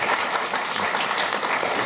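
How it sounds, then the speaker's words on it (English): Audience applause at a panel discussion in Amsterdam, steady clapping from a modest crowd, moderately loud and continuous for nearly two seconds. "We can applaud."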